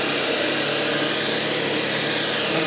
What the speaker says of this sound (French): dès qu'on s'approche d'un bord, l'aspirateur va augmenter sa puissance.